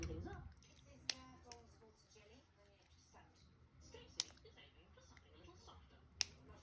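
Scissors snipping paper leaves while trimming pieces for a scrapbook page, three sharp isolated snips spaced a couple of seconds apart over a quiet room with faint soft speech.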